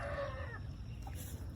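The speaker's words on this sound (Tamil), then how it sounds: "என்னை பார்த்தாலே தூரமாக தான் நிற்குது அந்த கோழி" A free-range country hen gives a short, high, drawn-out cluck lasting about half a second. It fades into a quiet outdoor background with a faint low rumble.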